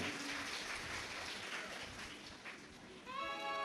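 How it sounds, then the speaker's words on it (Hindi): Loud, steady applause from a large audience at a live Shiv Mahapuran religious discourse in Kashi, broad dense clapping sustained throughout with a brief high bleat-like tone near the end. "एक बार जोरदार ताली बजाकर साधु।"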